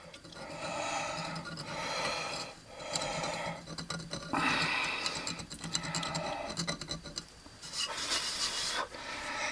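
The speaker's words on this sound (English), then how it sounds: "It's actually a little tiny miniature file, and just tool that." A tiny miniature file rasps over a Stichocentrus liratus fossil fish, giving close, dry scratching strokes in uneven bursts with short pauses between passes.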